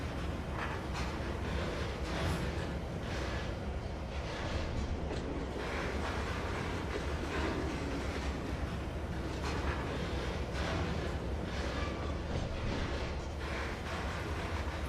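A diesel locomotive train from the Trainz 2022 game runs steadily, a low continuous engine rumble with faint rhythmic rail clicks, moderately quiet and without talk.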